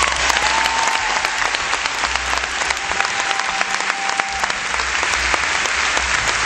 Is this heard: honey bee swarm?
no